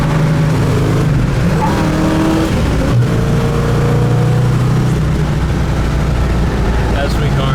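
Inside a 1969 Chevrolet Camaro SS cruising at 65 mph around 2,700 rpm, a loud, steady engine drone and road roar fills the cabin, with someone talking over it.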